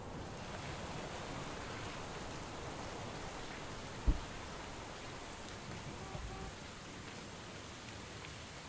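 Drizzling rain in the video game Wood & Weather gives a soft, even hiss of falling drops, with a single faint thump partway through.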